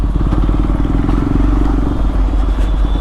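A KTM Duke 390 motorcycle fitted with an SC Project CR-T exhaust, its engine rumbling loud and close with a crackling, popping exhaust note throughout.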